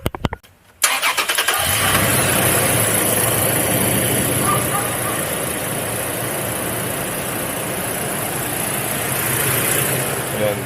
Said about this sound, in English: So we'll start the car up, and then you guys will hear how it sounds.